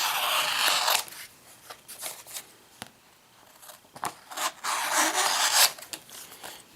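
Blade trimming vinyl lettering on an ammo box makes soft, close scraping and rubbing strokes in short uneven bursts, with faint ticks between and no talk.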